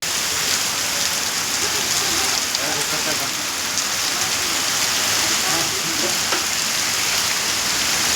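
Heavy rain pours down steadily, breaking large tree branches onto the road, a dense continuous hiss of drops striking surfaces, loud and close throughout with no break.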